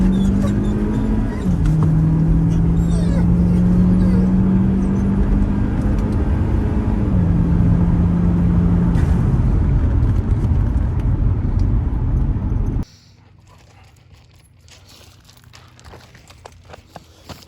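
A Chevy Cruze 1.4 engine roars loudly through a hard pull, its pitch rising in steps across gear changes before the sound cuts off abruptly to quiet. Tire squeal is not clearly distinguishable under the engine noise.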